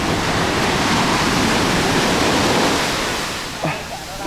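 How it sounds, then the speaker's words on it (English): Broadband wash of shallow sea water splashing and churning around legs while someone wades through the surf at Nha Trang, steady and close for most of the stretch before easing slightly near the end. "It's not bad walking through the water."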